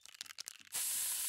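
A security guard's pepper spray attack in the South Park: The Stick of Truth video game, with a short patter of game sounds followed by a sudden loud, sustained spraying hiss.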